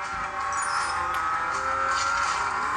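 A car drives itself in a mobile racing game played on a Coolpad Note 3 Lite phone, its engine a steady high-pitched drone with a faint tire-squeal edge, constant and moderately loud with no talk.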